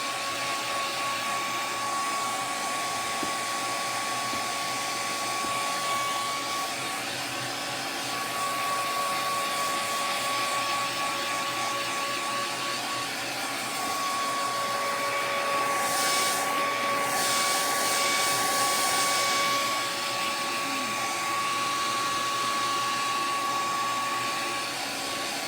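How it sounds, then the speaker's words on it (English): A blow dryer drying chalk paint on home decor runs continuously at close range, a loud steady whirring roar with a constant high whine that swells briefly as the airflow shifts. "I am going to turn my blow dryer on for a second, so you guys are going to hear a lot of noise"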